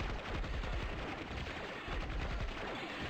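Gunfire in the 1997 real-time strategy game Dark Colony, a continuous dense crackle of overlapping small-arms shots at a steady, fairly loud level throughout.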